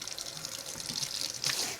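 Tap water runs steadily over hands at a sink while rinsing off sticky sourdough bread dough, a close, continuous splashing hiss that swells briefly near the end.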